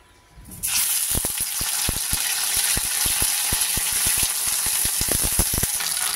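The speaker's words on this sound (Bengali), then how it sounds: "ভিন্ডিগুলো আগে ভেজে তুলে নিই।" Okra (bhindi) hits a hot frying pan and breaks into a loud, steady sizzle that continues throughout, dotted with sharp pops and crackles. Nobody speaks.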